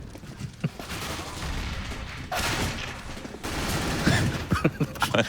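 Gunfire in CS:GO on the Inferno map during a pro match, with dense bursts of rapid shots and sharp cracks layered over constant game noise, loud and close, with heavier volleys near the end.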